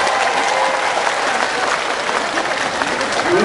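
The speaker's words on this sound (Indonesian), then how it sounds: "Ini kalau tepuk tangannya sampai koyo ngono." An audience at an Islamic sermon breaks into loud, sustained applause, a dense wash of many hands clapping with a murmur of crowd voices beneath.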